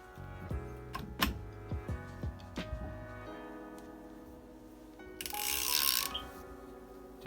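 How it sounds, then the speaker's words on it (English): A hand ratchet works on the engine of an all-motor B17A1 Honda CRX during a VTEC head teardown, giving a few quick clicking bursts close by, followed by a brief broadband rasp near the end; no talking. "Grab my handy dandy ratchet."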